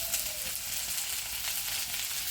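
Garlic and onion fry in a pan over a village clay stove, giving a steady, close, bright sizzle that holds evenly throughout with no talking.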